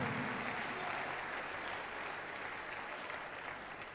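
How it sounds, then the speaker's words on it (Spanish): A congregation at a church service applauds, producing steady, dense clapping that fills the space evenly and stays at a constant level throughout. "Dale un aplauso grande al Señor"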